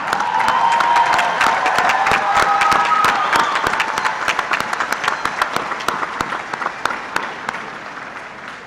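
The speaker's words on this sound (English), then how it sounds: "I would now like to ask all of the students who are graduating to stand and please applaud your parents, spouses, and family members" Graduating students and audience applaud at a University of New Haven spring commencement ceremony, a dense, loud wash of many hands clapping with some cheering that thins and fades toward the end.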